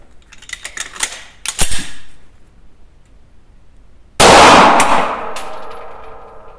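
A SIG Sauer 320C pistol fires on a shooting range, starting with a few sharp mechanical clicks and clacks before one loud, close shot that rings out and fades slowly.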